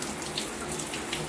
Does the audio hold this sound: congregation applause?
no